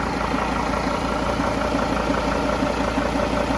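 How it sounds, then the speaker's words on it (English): A T1N Sprinter van's engine idles just after starting, a steady, moderately loud mechanical drone with a faint repetitive knock running through it and no voices. "with engine just started"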